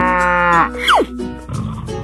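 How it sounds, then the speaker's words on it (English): A cow lets out a single loud, close moo, drawn out for about half a second, followed by a brief sliding tone and quieter background sound. "cow"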